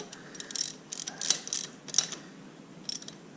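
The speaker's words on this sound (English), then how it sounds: "I'm just going to finish tightening everything up." A ratchet tightening bolts on the carburetor of a Taotao Chinese ATV: quick bursts of close, light metallic clicking in several short spurts, with no speech.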